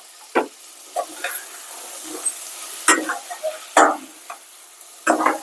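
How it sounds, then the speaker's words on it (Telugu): Tomatoes go into a pan of fried ginger-garlic paste for an Andhra-style cucumber mutton curry, with a quiet background sizzle broken by several sharp bursts of frying and the scrape of a stirring spoon. "ఇప్పుడు టమాటా వేసేస్తున్నాను."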